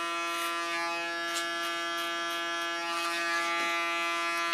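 Continuous close, steady buzzing hum of an electric hair clipper used with a comb to refresh a side-shave, with faint brushing strokes through the hair riding over the motor tone.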